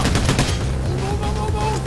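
Video game gunfire from a shield-carrying enemy in Payday: The Heist, a rapid burst of close, loud shots over background game noise with a faint voice mixed in.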